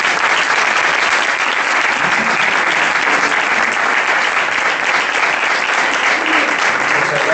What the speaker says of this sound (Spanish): se le puede dar un fuerte aplauso